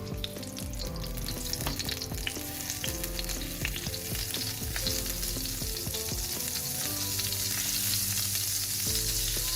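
Oil and a tablespoon of butter sizzle steadily in a greased frying pan, preparing for a Spanish cheese omelette, a continuous crackling fry with faint clinks and kitchen hum.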